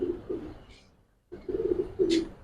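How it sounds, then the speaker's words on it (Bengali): Giribaz pigeons cooing in low throaty rolls, broken by a short pause and a sharp breathy hiss, close by and moderately loud. "দোনোটা কবুতর সাপের মতন ফুসফুস করতেছে"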